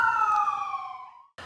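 An emergency vehicle siren wails in a big city, a single loud, clear tone falling away before cutting off.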